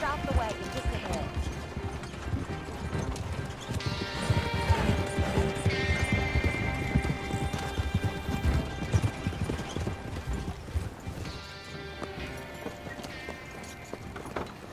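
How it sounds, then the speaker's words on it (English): Horse-drawn wagon in Red Dead Redemption 2, steady rhythmic hoof clip-clops with rattling wagon mechanisms throughout, with characters talking over it. "Stop the wagon just ahead."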